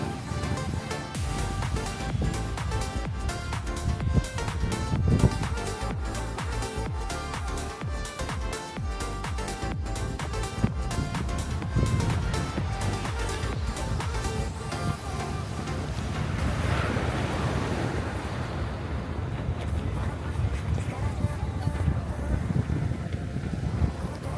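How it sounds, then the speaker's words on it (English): Ocean surf rolls onto an Outer Banks beach on a sunny, breezy day between Avon and Cape Point, a steady broad wash of waves with wind buffeting the microphone throughout, no voices. "Now it's time to enjoy a little ocean ASMR."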